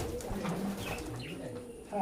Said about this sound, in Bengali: এটা হচ্ছে কালো জিরিয়া পায়রা, সারানপুরি।